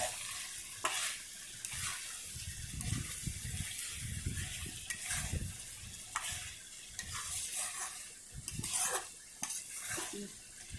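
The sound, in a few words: stirring chicken with chili powder in a pan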